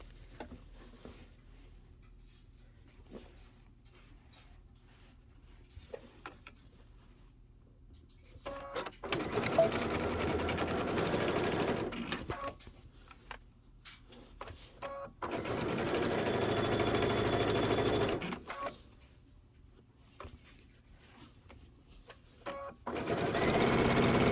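A sewing machine stitches a quilted Kimberbell table topper in three bursts of rapid, even mechanical chatter, loud and close, separated by quieter pauses with light handling clicks.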